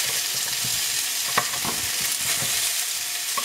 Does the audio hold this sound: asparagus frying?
yes